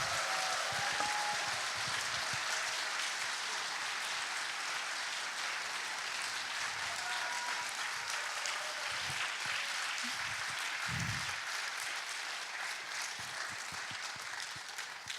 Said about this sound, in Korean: 피아니스트 문봉준 교수님께 큰 박수 부탁드립니다.